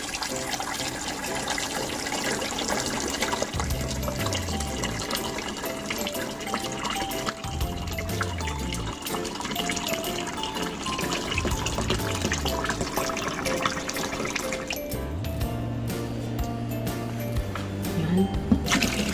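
Water running and splashing steadily as a portable clear ice maker is refilled, a continuous close pouring rush with gurgling and shifting pitch over about twenty seconds, no talking.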